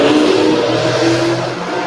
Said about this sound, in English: the sweet, sweet sounds of someone who needed to buy that motorcycle